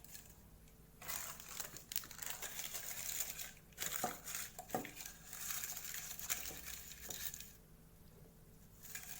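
Butter paper crinkling and rustling as it lines the sides of a greased cake tin for an eggless plum cake, a steady close run of crackly handling noise with short pauses and a few sharper taps.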